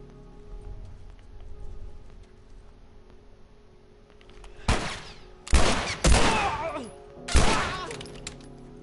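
Gunfire in The Last of Us: after a quiet hum, four loud, sharp gunshots ring out close by, spaced unevenly over a few seconds, each with a short echoing tail.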